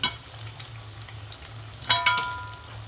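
Chicken lollipops frying in a pan, a low steady sizzle with a couple of sharp metallic clinks near the end as pieces are turned over, close and moderately loud.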